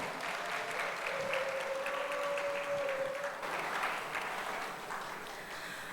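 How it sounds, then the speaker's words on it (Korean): An audience at a Catholic diocesan youth gathering breaks into steady, full applause that holds evenly for several seconds, with a faint tone running underneath. "자, 큰 박수 부탁드릴게요."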